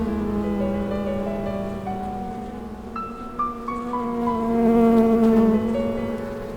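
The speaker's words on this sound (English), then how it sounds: "Honeybees are stocking up for winter too." Honeybees drone steadily around a nest in an oak tree in a Japanese forest in autumn. The close buzzing wavers in pitch as single bees pass near, and the hum gets louder toward the end.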